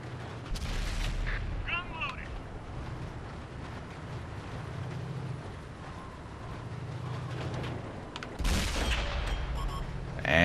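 Tank cannon shots in World of Tanks on console from an M51 Super Sherman battle: a sharp heavy blast near the start and another powerful boom near the end, with engine rumble and battle noise between.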